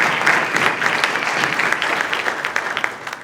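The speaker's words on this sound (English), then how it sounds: "Let's give that a big round of applause." Dense, steady applause fills a room at a Route 66 VIP breakfast, a crowd clapping loudly and continuously before tapering slightly at the end.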